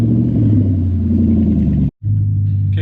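Dodge Daytona engine running with its exhaust cut off, a loud close, deep droning rumble that cuts out for a split second before roaring steadily again.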